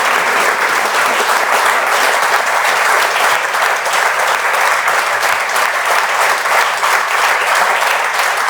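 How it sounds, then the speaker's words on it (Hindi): A room of students in a coaching institute library bursts into loud, dense applause, a continuous close wash of many hands clapping at once that holds steady without pause. "तो बच्चों, एक बार जोरदार तालियों के साथ रोहन भैया का स्वागत करो।"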